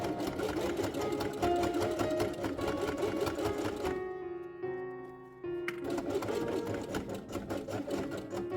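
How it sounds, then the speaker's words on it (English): A sewing machine stitches fabric for a felt quiet book page, a close rattling run with a short slower stretch in the middle before it resumes at full speed. "Then sew it from here to this place."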